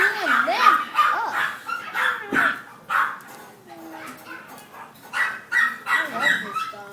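A dog barks and yips in short bursts, mixed with other dogs and excited children's voices talking close by during a first meeting with the dogs.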